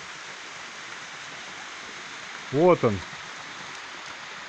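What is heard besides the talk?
waterfall on the Dederkoy river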